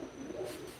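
Pigeon cooing inside a racing pigeon loft, a soft low warbling coo that runs steadily through the moment at close range with no talk over it.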